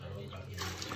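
Water pours steadily into a container while liquid soap is being made, a continuous close splashing rush with a voice speaking over it.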